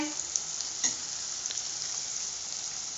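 Faint, steady frying hiss from a pan, with a few soft scrapes as spices are stirred into sago khichdi, no voices.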